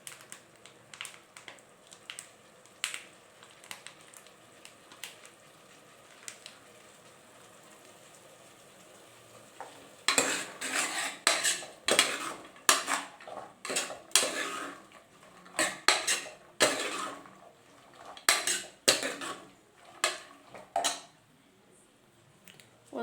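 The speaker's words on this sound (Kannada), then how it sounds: "ಒಂದು 5 ನಿಮಿಷ ಫ್ರೈ ಆಗಲಿ ಹಂಗೆ." Ginger garlic paste fries in a pan for sambar. A quiet stretch gives way to a dense series of close spatula scrapes and clanks against the metal pan as it is stirred.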